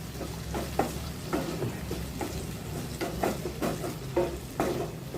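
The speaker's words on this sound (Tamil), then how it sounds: "இப்போ இது இருக்கட்டும் நல்லா அதை வதங்கி வரட்டுங்க" Boiled figs and tomatoes sautéed in a pan for a curry, with a low continuous sizzle and regular scraping stirs recurring about every half second, close and without voices.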